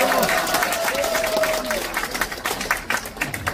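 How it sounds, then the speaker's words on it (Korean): Audience applause at the close of a lecture on party history and basic-society policy at a Cheongju committee launch event, dense clapping from a crowd continuing steadily and thinning slightly toward the end, with a faint voice in the background. "큰 박수 부탁드리겠습니다"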